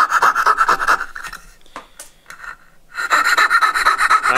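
A scroll saw with a 5-inch, 12.5 teeth-per-inch skip-tooth blade cuts the waste between dovetail tails on a tailboard, a rapid buzzing rasp that stops briefly midway, then resumes close and loud.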